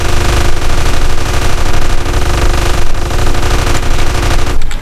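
Rapid machine-gun fire in GTA San Andreas, a loud, dense, continuous burst of shots close up, rattling almost unbroken before stopping abruptly near the end.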